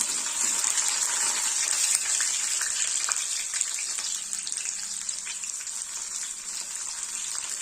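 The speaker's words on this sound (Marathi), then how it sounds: "सर्वात आधी आपण यामध्ये घालणार आहोत जिरे त्यानंतर मस्त असं बारीक कट करून घेतलेला लसूण" Cumin seeds and finely chopped garlic fry in hot oil for a dhaba-style garlic fenugreek dish, giving a loud, steady, close sizzle with crackles that fades only slightly over time.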